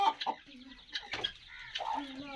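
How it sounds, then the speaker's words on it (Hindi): Hens cluck in short, choppy bursts close by, several birds overlapping in a brief, agitated chorus. "देखे जी मुर्गियां भी परेशान हो चुके हैं,"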